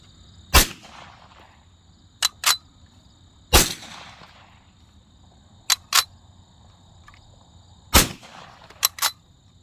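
Bolt-action rifle shots from an Auto Ordnance M1 Carbine session, three loud, sharp cracks spaced several seconds apart, each followed by a short echoing tail and quick pairs of metallic clicks from working the action.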